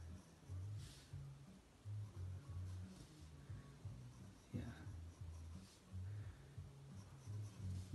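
A pencil is drawn across paper to sketch the ridges of an onion skin, giving soft rhythmic scratching strokes in short bursts, close and quiet, with faint background hum.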